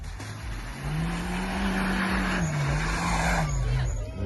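Off-road car stuck with its wheels spinning, the engine revving in a loud whining whistle that rises and wavers while the vehicle fails to move, with faint voices in the background.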